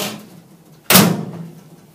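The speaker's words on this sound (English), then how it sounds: "Then we can reinstall the front door." A front door panel is fitted back onto an air purifier unit, making a single sharp thump partway through that stands out clearly over a low background hum.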